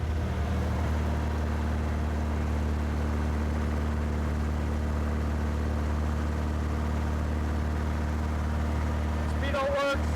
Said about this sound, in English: when you're running through the RPMs, the exhaust gets kind of loud